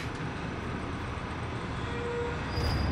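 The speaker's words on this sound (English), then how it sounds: "This tram is bound for Nest." A tram in the Resident Evil 2 Remake video game pulls into a station with a steady loud rumble, a faint wheel squeal rising near the end and no voices.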